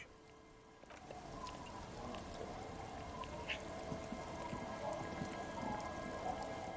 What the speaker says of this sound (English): It's getting late, and it's raining.